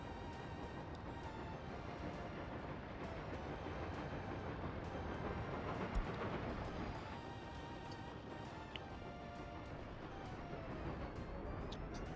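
Rumbling, continuous train noise from a coal-laden freight train in the strategy game Workers & Resources, a steady broadband rolling drone with faint clicks, moderately loud and unbroken, no talk.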